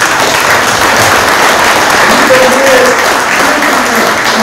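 Audience at a ceremony for forestry workers giving sustained, loud applause, dense even clapping from many hands filling the hall throughout.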